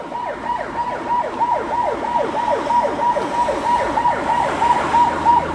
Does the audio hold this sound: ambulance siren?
yes